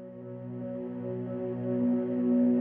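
A sustained guitar pad in a music mix, a steady soft drone of layered held tones swelling slightly louder toward the end, with no voices.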